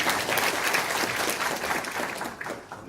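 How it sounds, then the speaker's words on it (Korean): Audience at a regional council policy forum gives a brief round of clapping, dense at first and thinning slightly toward the end. "얼른 달려오시라고 박수 한번 해주십시오"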